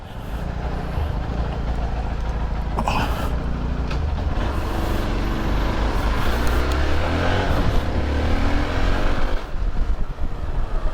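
Steady broadband engine and road rumble from a 2023 Hero Xpulse 200 4V Pro Rally Edition motorcycle riding off, loud and continuous throughout with wind noise and a brief louder surge partway through.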